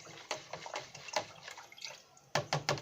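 Oil being stirred into pre-boiled water for maandazi dough: a series of close liquid sloshes and splashes in uneven bursts, with a quick cluster of three strokes at the end and no voice.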